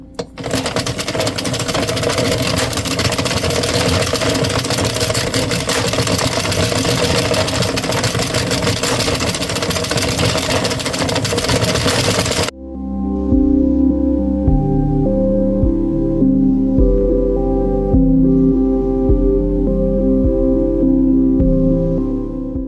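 An ADDI 22-pin knitting machine is cranked through rows of black yarn, producing a continuous rattling, clattering mechanical churn for about twelve seconds before music takes over.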